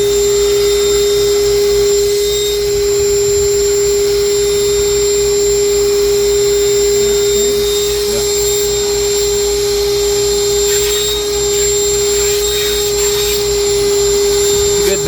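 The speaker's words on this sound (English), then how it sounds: "It's actually one of the Ryobi cordless one, 18 volts" A Ryobi 18-volt cordless vacuum runs steadily aboard a trawler with a loud, constant motor whine and a strong tonal hum, and it carries on without a break.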